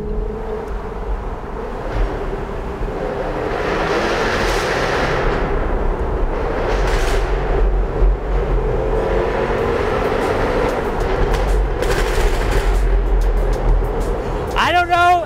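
A Jaguar F-Type R Convertible's exhaust roars in a tunnel, echoing, with sharp repeated crackles and pops like gunshots, while a voice talks underneath.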